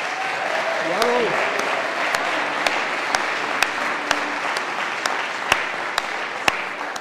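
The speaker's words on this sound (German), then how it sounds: "dass ihr jetzt einmal klatscht" Steady audience applause at a folk singing event honoring a Dreigesang trio, a dense continuous clapping crowd with a brief voice near the start and sharp periodic knocks throughout.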